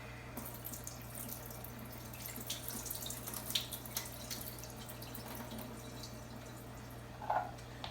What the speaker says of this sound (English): first, you drain off your water for your cashews.